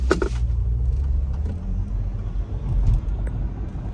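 A 2022 Shelby GT500 fitted with long tube headers pulls away from a light, its deep engine rumble steady and loud and close by, with a brief burst at the start.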